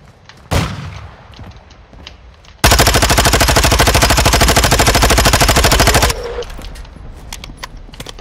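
A submachine gun in the Call of Duty video game fires a loud sustained burst of rapid shots lasting several seconds, preceded by a single sharp shot and followed by quieter game sounds.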